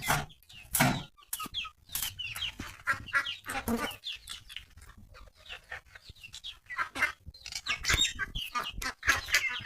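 Chickens cluck and call in a village duck and chicken coop, a busy run of close, uneven clucks with short bursts of activity that continue through the whole stretch.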